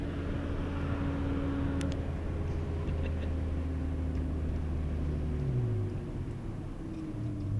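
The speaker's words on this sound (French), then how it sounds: "Là, ce que tu entends, c'est des pneus avant là." Front tyre noise from a Peugeot 206 S16 on R888F semi-slick tyres, a steady loud droning roar mixed with engine hum from inside the car, continuous throughout with a slight pitch shift near the end.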